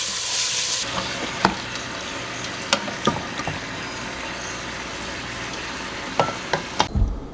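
Tomatoes tumble into a simmering pot of tomato paste and sugar, a steady sizzle with a handful of sharp plops and clinks spaced irregularly, ending in a low thud.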